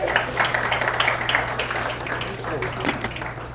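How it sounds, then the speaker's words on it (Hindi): An audience at a welcome gathering in Manila applauds as a Hindu temple chairman is called up, a busy scatter of clapping under a voice talking, with a low steady hum in the room. "तालियां हो जाए।"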